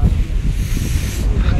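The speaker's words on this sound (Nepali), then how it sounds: "हावा चाहिँ क्या डरलाग्दो चल्दैछ" Strong wind blows across the Ahal Dara mountain ridge at sunrise, facing Kanchenjunga. It makes a steady, rough, buffeting rumble that batters the microphone throughout, close and fairly loud, with no clear speech.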